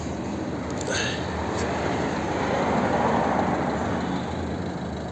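Volvo V50 with a 1.6 diesel engine, a 2012 car from Belgium, idling steadily at the exhaust, a continuous low broadband rumble close by with no talk.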